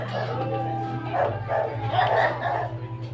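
A dog barks a few times nearby, in short, separated bursts over a low steady background hum, on the way home from swimming.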